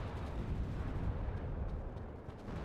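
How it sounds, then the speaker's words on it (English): Artillery and mortar fire rumble in the WARNO wargame, a dense, continuous low booming barrage with distant explosive thuds overlapping throughout, with no talking. "We have some artillery, we have some mortars."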